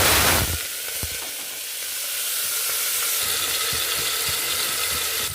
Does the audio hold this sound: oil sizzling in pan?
yes